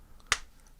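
A single sharp hand clap on cue in front of a podcast camera, one crisp close transient standing alone in a quiet room.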